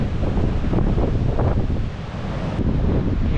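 Rough sea surf pounds the shore on a red-flag beach at São Francisco do Sul, Santa Catarina, a loud continuous roar of breaking waves mixed with heavy wind buffeting the microphone.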